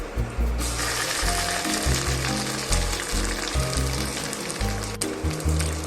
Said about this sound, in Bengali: এবার তেলে ভাজবো